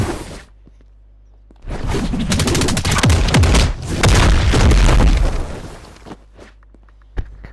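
Martial artist's bullet barrage attack in a Roblox fighting game: a dense burst of rapid gunfire-like impacts and booms lasting several seconds, loud and close, after a quiet start, ending with a single sharp hit.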